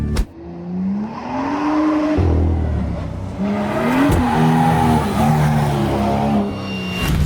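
A BMW M2 F87 engine revs hard at full throttle, its pitch climbing and dropping in repeated surges with some tire noise, loud and close throughout.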